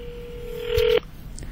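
A telephone dials out to place a call, one long steady tone that cuts off abruptly, followed by a faint short blip, heard clearly over a quiet background.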